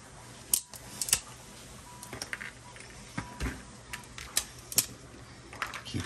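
Tree supports pulled and snapped off a PLA 3D-printed model, a run of sharp, close plastic clicks and cracks at irregular intervals, with brief rustling between breaks and no talking.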